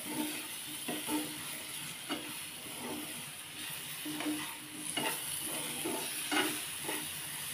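A raw mango and fenugreek mixture with jaggery and salt being sautéed in a pan, with a soft, even sizzle broken by regular scraping spatula strokes, quiet and close with no voices.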